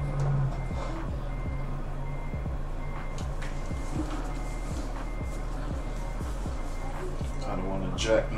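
Truck engine rumbling steadily in American Truck Simulator, with faint repeating reversing-style beeps and clicks under a continuous low drone and a voice talking.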